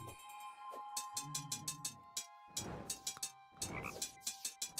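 A regular frog in the video game Terraria croaks in quick repeated bursts, a string of short rhythmic calls, fairly close, over a steady game background hum and light clicks.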